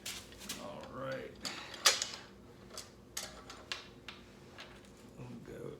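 A torque wrench works cam gear bolts on a Nissan VG30 engine, making close, irregular ratcheting clicks and metallic creaks spread across a few seconds.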